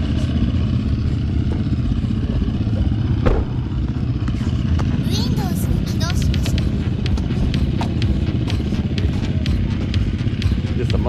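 Motocross motorcycles riding on a trail in Italy, a loud continuous engine drone with rattling clatter and a brief high whine, heard close from the rider's position with wind rushing throughout.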